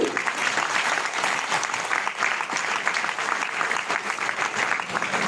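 Loud, sustained applause from a university audience in a lecture hall, dense steady clapping lasting the whole stretch with no break.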